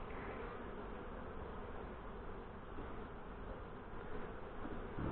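Honey bees from a hive being inspected after robbing, a steady, dense buzzing swarm close by, filling the whole stretch without pause and rising slightly toward the end.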